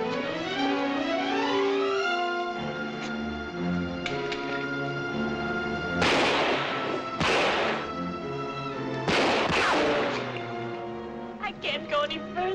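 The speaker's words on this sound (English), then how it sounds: "throw a couple of wild shots to attract his attention" Gunshots in a 1951 film shootout come as three or four sharp, loud cracks spaced a few seconds apart, cutting through a sustained orchestral score.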